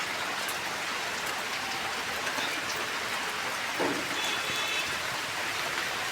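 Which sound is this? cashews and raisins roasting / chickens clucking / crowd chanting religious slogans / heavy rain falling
heavy rain falling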